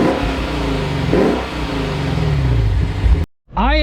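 A 2025 Lexus IS 500 V8 revving and accelerating, a loud, close engine climbing and dropping in pitch before a brief cut, then surging again with a sharp rising rev.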